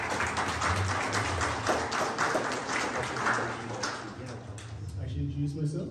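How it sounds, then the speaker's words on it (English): Applause from a Good Friday service audience builds into a dense, continuous patter that holds for several seconds before thinning toward the end, mixed with crowd murmur. "Can we please give him a round of applause?"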